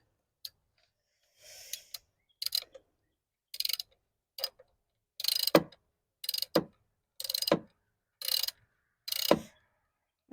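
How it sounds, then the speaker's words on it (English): A hand ratchet loosens the coil bolts on a BMW M54 engine, giving a string of sharp, close clicking bursts with quiet gaps between strokes. "I'm going to go ahead and loosen the bolts first, starting with the ground here"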